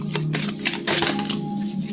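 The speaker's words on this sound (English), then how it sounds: "Can I shuffle again? I'm going to shuffle again." A deck of cards shuffled by hand during a tarot reading gives a quick, papery riffle of rapid flutters over about two seconds, close and fairly loud, with no talking.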